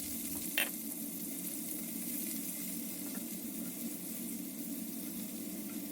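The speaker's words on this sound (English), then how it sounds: "Mix it about for 10 seconds and then add in the onions." Onions frying in hot oil with peppercorns and red chili for a chicken curry, a steady close sizzle that holds evenly throughout, with one brief clink near the start and no talking.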